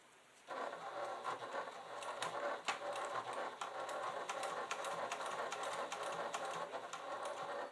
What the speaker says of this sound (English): let's go ahead and just do a tiny little back stitch